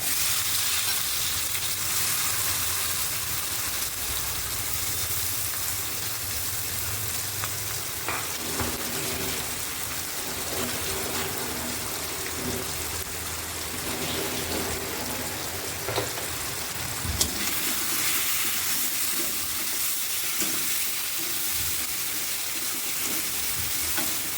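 Small puti fish sizzle steadily in hot oil in a pan, a constant crackling hiss with occasional stirring scrapes, close and unbroken.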